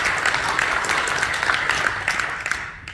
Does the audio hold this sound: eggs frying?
no